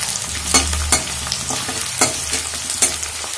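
Onion sizzles steadily in a pan on a home stove, cooked only until lightly browned for a Poi saag dish, while a spoon scrapes and stirs it with several sharp clicks.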